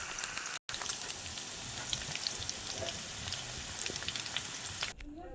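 Chicken pakoras frying in hot oil, a dense, steady crackling sizzle like rain on a surface, with one brief cut in the sound near the start.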